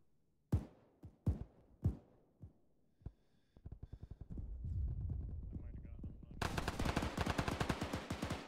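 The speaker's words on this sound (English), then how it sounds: "Machine gun 762." Bursts of 7.62 machine gun fire in a video game crack out, a few sharp single shots followed by sustained rapid automatic fire that grows louder and denser toward the end, with players talking over it.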